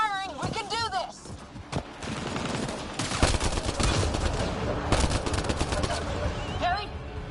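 Rapid bursts of gunfire ring out during a video game battle, loud and dense, mixed with shouted voices over the shooting.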